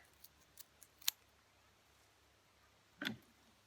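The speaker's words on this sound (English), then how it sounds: "hold on, I'm going to trim my ends" Scissors trim the grass ends of a nature weaving: a few faint light clicks, then one crisp snip and a longer rustling cut near the end, all close and quiet.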